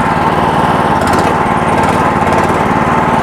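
A fodder cutter reaper machine, a small tractor-like crop cutter, runs its engine while reversing, giving a loud, steady, unbroken drone close by.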